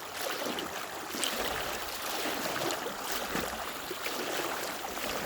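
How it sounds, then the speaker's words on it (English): Steady broadband rush of a strongly flowing flash flood about two feet deep, continuous and close, with no voices. "That's just 2 feet of water, and you can feel the intensity and the power."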